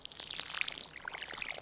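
A watering can pours over crops in Stardew Valley, a soft trickling spray of tiny droplets and light patters, continuous and fairly quiet.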